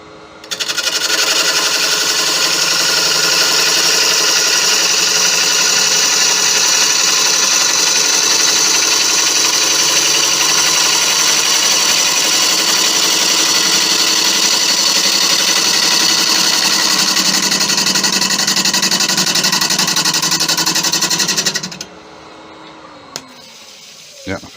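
A wood lathe turns a pale Malaysian acacia bowl, with a loud, steady motor whine and layered harmonic hum running unbroken for about twenty seconds before it spins down and stops.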